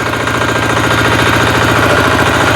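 A walk-behind tractor engine runs in gear in a farmyard, giving a loud, steady, rapid thumping drone with a rough knocking rhythm that continues unbroken throughout.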